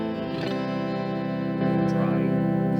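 A clean, dry, sustained electric guitar chord rings out through a Fender Mustang LT25 amp, with a second strum partway through that lets it swell slightly louder.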